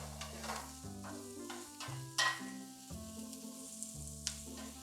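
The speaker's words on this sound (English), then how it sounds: "So add more oil if needed and continue sauteing" Vegetables sautéing in oil in a pan for a cauliflower stew, a soft continuous sizzle broken by the repeated scrape and clatter of stirring.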